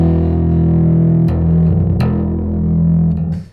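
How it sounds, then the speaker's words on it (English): A bass guitar played through a Genzler 4 On The Floor overdrive pedal, drive set about three-quarters up: a loud, sustained, gritty distorted bass tone with two sharp note attacks, fading out at the end. "everything between 30 Hertz and 14K is being affected by this distortion circuit"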